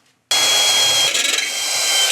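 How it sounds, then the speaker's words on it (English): A power drill bores out a rivet on a roof install, starting abruptly and holding a loud, continuous high whine for about two seconds. "I've drilled out the last rivet"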